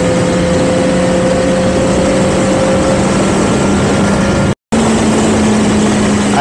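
A BMW S1000RR sport motorcycle engine running steadily while riding, a loud continuous drone with a sustained tone that shifts slightly in pitch, cut by one brief dropout near the end.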